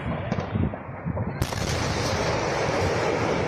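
Repeated explosions at a fireworks warehouse in Soacha, heavy booms and cracking blasts in quick irregular succession, followed by a dense continuous roar, recorded from a nearby park.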